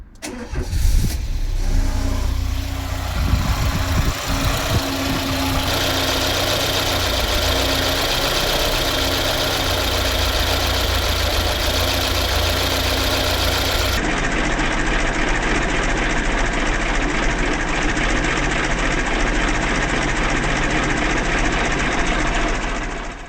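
Citroën BX petrol engine with a mechanical fuel pump leaking petrol cranks and catches, then settles into a steady, close, loud idle that runs on alone without any talk.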